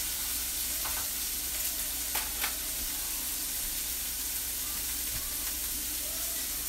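Onions fry in a pan for a chopped cheeseburger sub, giving a steady, close hissing sizzle throughout with a few faint clicks of utensils and no talking.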